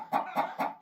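Chickens in a mobile chicken coop cluck close by, three short rhythmic clucks in quick succession.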